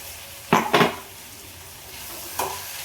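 Dry-roasting masala of cloves, pepper and poppy seeds in a pan for egg and chicken sambar in a home kitchen: two quick close scraping clatters of a utensil against the pan, a pause, then one more brief stir, faint sizzle beneath.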